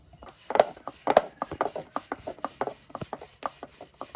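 Rice-flour pitha dough is rolled and pressed into balls by hand, making soft, close rubbing and patting strokes in a quick, steady rhythm with no talking.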